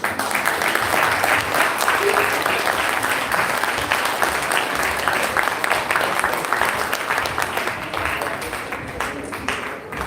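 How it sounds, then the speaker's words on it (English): An audience applauds after a drama performance at a Swami centenary celebration near Edinburgh Science Centre: loud, dense, sustained clapping that fills the whole stretch and eases slightly at the end. "Again, another round of applause."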